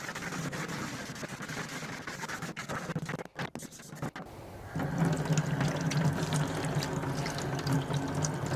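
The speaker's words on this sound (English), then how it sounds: "Start rinsing my tools off here." Water runs steadily from a tap as tools are rinsed during cleanup after an oil change, a faint continuous splash that briefly drops out, then returns slightly louder with light scraping.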